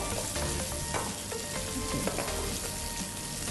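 Bean sprouts stir-fried in a pan for a Brunei-style dish, a steady close sizzle with scraping stirs and clatter running throughout, no talk.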